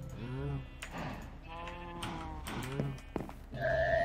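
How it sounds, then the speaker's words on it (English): Sheep in Minecraft give several short bleats in a creative survival world, with a player talking over and between them and a brief tonal game sound near the end. "Is that a sheep? It is."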